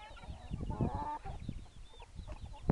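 Chickens clucking nearby with a rooster among them, several overlapping calls in a busy barnyard, with a brief louder squawk at the end.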